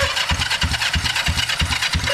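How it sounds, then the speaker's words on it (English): A very noisy starter cranks a vintage motorcycle engine without firing, a steady rapid rhythmic churning and rattling, close and loud throughout. "We have a very, very noisy starter."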